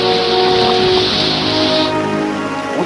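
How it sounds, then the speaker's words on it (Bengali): Rain falling across North Bengal makes a steady, dense hiss that holds at an even loudness for about three seconds, with no voices over it. "বুধবার থেকে বৃষ্টিতে ভিজছে উত্তরবঙ্গ।"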